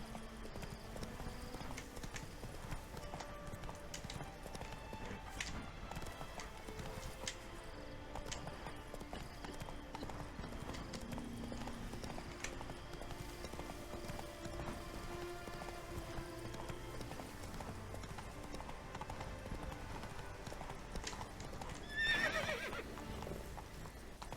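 Roach the horse in The Witcher 3 clip-clops along at a steady pace, hooves thudding over background game music, then lets out a whinny near the end.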